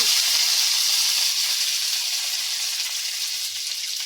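Curry leaves sizzle in hot oil for a Kerala thoran, a steady close hiss and crackle that carries loud throughout and then eases slightly.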